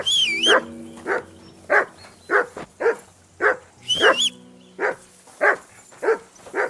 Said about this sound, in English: Get that mutt of yours to stop barking, will you?